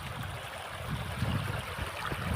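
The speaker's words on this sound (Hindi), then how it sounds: "यहाँ पानी आवी रह्युं छे जोरदार।" Strong water rushing through a village in Gujarat, a steady broadband wash with low churning surges, close and continuous with no voices.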